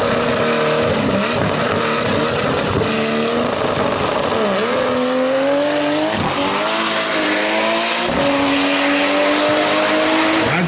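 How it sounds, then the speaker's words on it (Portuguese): Drag race car with over 1500 hp accelerating hard down the strip at a Velopark festival, a loud sustained engine roar with rising pitch and brief shift dips, close and continuous for the whole stretch with no talk. "Quase 100 metros com as rodas da frente despregando do chão, tá constante o carro do Márcio"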